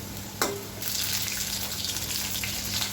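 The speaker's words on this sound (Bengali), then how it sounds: "একে একে আমি সবগুলি মোমো দিয়ে দিচ্ছি। দুই পাশ খুব সুন্দর করে ভেজে নিতে হবে।" Momos sizzle steadily in hot oil after a brief splash as they drop into the pan, a continuous close crackling hiss that fills the whole stretch without speech.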